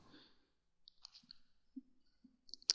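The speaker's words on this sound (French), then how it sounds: "si je clique sur j'aime sur le deuxième article que personne n'a aimé pour l'instant, je clique" A computer mouse clicks on a like button, giving a few faint, sparse ticks that end in a sharper, louder pair of clicks, with no talking.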